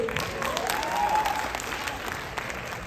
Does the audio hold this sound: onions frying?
no